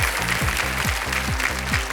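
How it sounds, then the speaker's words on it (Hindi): Studio audience at a televised Hindi quiz show clapping steadily, a dense, even wash of applause that holds for about two seconds with a low rhythmic musical pulse underneath. "लोग यहाँ पर पहले से ही ताली बजा दिया"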